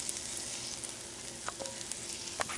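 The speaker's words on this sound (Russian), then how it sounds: "Обжариваю я кабачки." Zucchini fry in oil in a pan, a steady close sizzle with a few light stirring clicks, and no voices.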